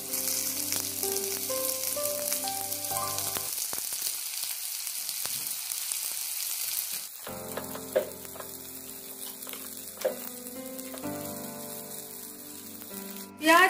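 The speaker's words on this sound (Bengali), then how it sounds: "পেঁয়াজ প্রায় ভাজা হয়ে গেছে" Sliced onions with a pinch of salt fry in a pan, giving a soft, continuous sizzle with a few clinks of stirring, quiet beneath steady background music.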